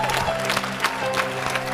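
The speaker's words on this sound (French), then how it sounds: "Somebody give a mighty hands clap to Jesus Christ." A congregation clapping hands together for Jesus Christ during a church service, a dense wash of steady applause with a few louder bursts, continuing throughout with a faint tonal background.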